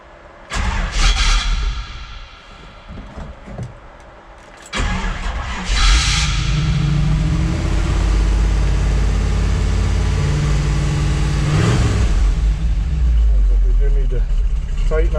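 A restored 1955 Chevrolet 3100 pickup is started with a key: a few seconds of cranking, then the engine catches and settles into a loud steady idle, close by, with someone talking.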